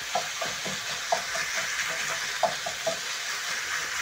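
Minced meat fries in a pan with onions, tomatoes, coriander and cabbage while a spatula breaks it apart. A steady sizzle runs underneath, broken by a few sharp scraping and tapping knocks.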